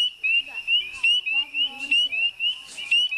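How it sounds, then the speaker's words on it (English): Repeated high, piercing trilling frog calls in steady bursts, loud and close, with faint voices murmuring underneath, at a campfire circle in Hillsborough River State Park. "That's a frog, right?"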